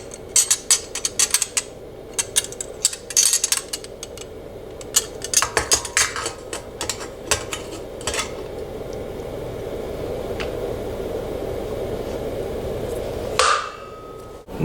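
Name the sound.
replacing the lid on a beer keg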